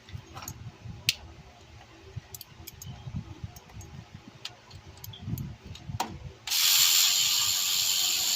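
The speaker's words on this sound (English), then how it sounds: "Now you're taking out the last bolt." A ratchet wrench clicks in short bursts while removing the last alternator bolt on a 1997–2004 Ford F-150 with a 4.6L Triton engine, close and fairly quiet, followed by a loud hiss of noise at the end.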